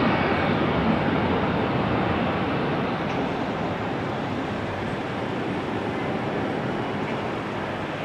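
A large airliner taxis slowly at rainy Amsterdam Schiphol Airport, its steady broadband engine rumble and rain wash filling the scene continuously at moderate distance with no voices.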